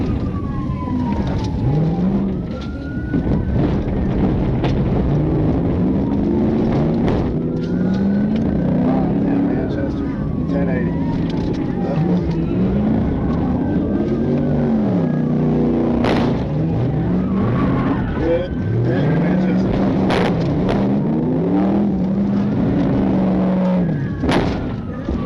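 Cars race at high speed through city streets, one with dark-tinted windows fleeing police, engines roaring loudly and continuously with swooping pitch changes as the vehicles accelerate and pass.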